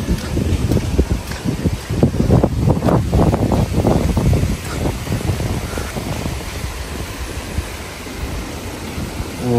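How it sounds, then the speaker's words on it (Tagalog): Strong typhoon wind gusts across the Visayas, a loud continuous roar with rushing bursts, strongest in the first half and then easing to a steady blow. "Grabe po ang hangin"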